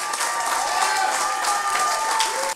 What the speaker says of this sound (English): Let's get another round of applause for Jordan